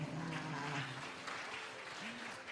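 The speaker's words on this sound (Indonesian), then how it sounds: "Kita kasih tepuk tangan juga ya" Applause from a church congregation during a Sunday service, a fairly faint, continuous patter of clapping with a voice speaking briefly at the start.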